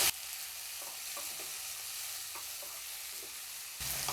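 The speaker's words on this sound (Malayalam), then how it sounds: "ഫ്ലെയിം ഒന്ന് കൂട്ടി വെച്ചിട്ട് 1 മിനിറ്റ് ഇത് നമുക്ക് നല്ലതുപോലെ ഒന്ന് വഴറ്റിയെടുക്കാം" Chopped tomatoes sauté with onions in a pan for tomato chutney, a continuous close sizzle broken by scattered spatula scrapes and stirring clicks, rising louder as the flame is raised near the end.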